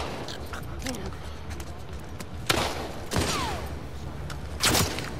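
Enemy gunfire in The Last of Us Part II, three separate loud shots spaced about a second apart over low background rumble, with a player speaking between them.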